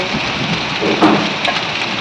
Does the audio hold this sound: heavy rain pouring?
yes